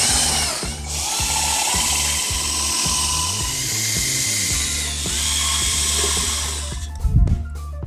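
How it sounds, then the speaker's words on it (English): A power drill drives 3/4 inch tek screws into an aluminum stair rail, loud and close. The motor whirs in repeated short bursts, and a clunk comes near the end. "we want to secure the rail section to the clips with our 3/4 inch tech screws, top and bottom, both sides"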